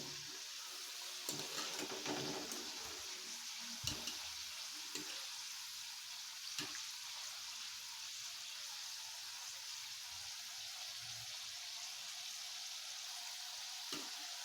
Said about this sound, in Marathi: अजून चांगले तळून घ्यायचे आहेत डार्क ब्राऊन कलर होईपर्यंत